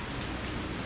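Hail and rain fall in a steady dense patter, a brief continuous hiss of drops striking surfaces.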